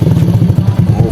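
A Yamaha Jupiter Z 110cc motorcycle with a Castwell exhaust runs close up, a loud, steady, bassy putter with a rapid throbbing pulse and no voices.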